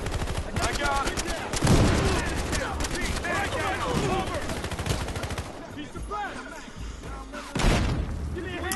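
Gunfire from the video game Battlefield Hardline, a heist match: rapid bursts of automatic fire and sharp single shots crackle throughout, with a couple of heavier booms, while a voice talks over the action.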